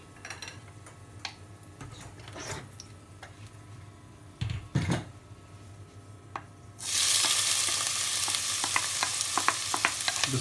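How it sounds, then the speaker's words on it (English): Chopped onions hit hot oil in a pan for an Indian cashew nut masala, starting a loud, steady hiss and crackle after a stretch of quiet clicks and stirring. "The sizzling noise of the onions."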